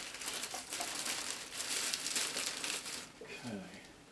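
A plastic bag, likely the original wrapping, crinkles steadily as a Sharp GF-318ST boombox is unwrapped, with a voice speaking briefly near the end.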